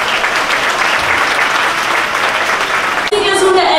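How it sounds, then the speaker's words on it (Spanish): Loud, sustained applause from a crowd, steady for about three seconds before abruptly giving way to a different sound with tonal content. "vamos a despedir a Tito con un fuerte aplauso"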